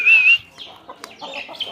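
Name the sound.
chickens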